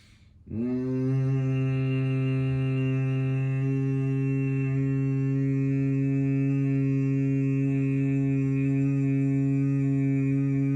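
Sustained humming bee breath from Bhramari yoga practice, a steady low voiced hum with rich harmonics starting abruptly and holding continuously for about ten seconds without a break.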